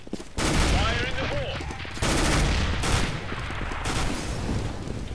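Gunfire and explosions in Counter-Strike: Global Offensive on the Italy map, dense loud bursts of rapid shots and booms layered together, with game voices mixed in.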